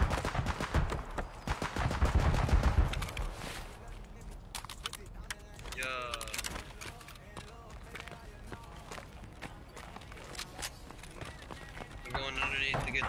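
Gunfire in a shooter video game: rapid rattling bursts and thuds of shots with running footsteps, loudest at the start and again near the end, while players talk over it.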